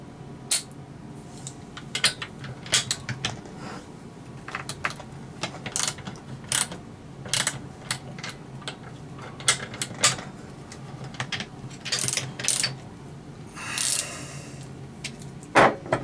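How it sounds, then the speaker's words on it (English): Clutch bolts are loosened on a Taylor RC FG Marder model car, giving close, irregular metallic ratcheting clicks and small tool taps scattered over quiet stretches, with no talking. "As soon as I loosen up these clutch bolts, I almost guarantee you that's going to pop back."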